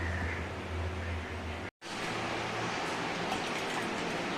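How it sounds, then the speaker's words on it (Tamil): A loud, continuous mixer grinder motor grinds coconut steadily, cutting out abruptly for a moment before roaring back at full strength. "இது ரெண்டுத்தையும் இதில் சேர்த்து நல்லா குறகுறப்பாக அரைச்சிக்கலாம்"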